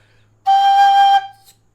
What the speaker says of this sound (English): the MK Pro is a louder whistle